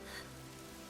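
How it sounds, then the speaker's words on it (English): Rain falls in the video game Fire Emblem Three Houses, a faint, even patter with a low steady hum of game ambience underneath and no talking. "It began to rain."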